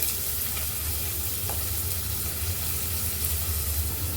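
Chopped onion hitting hot oil in a heated pot, a loud dense sizzle that holds steady for several seconds with occasional stirring clinks, no talking.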